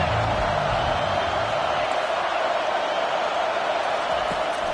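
Football stadium crowd cheering during a game, a broad roar that is loud at first and then settles into a steady wash of noise with scattered shouts.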